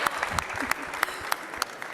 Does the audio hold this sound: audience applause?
yes